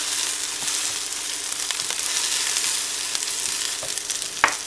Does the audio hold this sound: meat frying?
yes